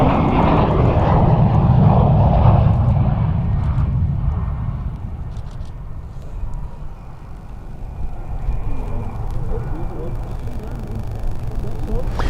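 Military jet on the runway threshold at RAF Waddington during the Cobra Warrior exercise, a loud roar heard from a distance that peaks early and then fades into a long rumbling wash, with faint background chatter.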